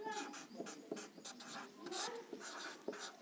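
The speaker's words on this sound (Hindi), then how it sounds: "एक वाक्य लिख रहा हूं" Chalk or marker scratches and taps rhythmically across a classroom board as a sentence is written, with short, close strokes in quick succession and faint breathing in the background.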